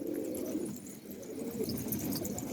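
Pigeon cooing nearby, soft repeated low coos over a continuous rustling background without speech.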